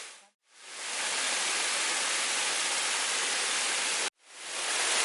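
Pingón El Caneyu waterfall in Asturias pours as a loud, dense, unbroken rush of falling water heard close, with no voices over it.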